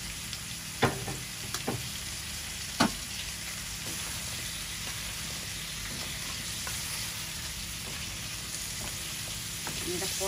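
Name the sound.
fish frying in a pan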